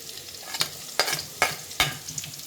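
Green chilies and garlic fry in hot oil for street-style Manchuria, a steady sizzle broken by four sharp, evenly spaced scrapes of a stirring spoon, close and fairly quiet, with no voices.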